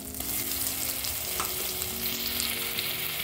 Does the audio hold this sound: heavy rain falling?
no